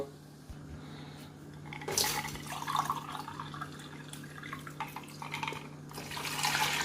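Ice water pours from a jug into a cooking pot while making Kashmiri pink tea, a steady close splashing stream with a few brief clinks of ice, heard alone with no talk.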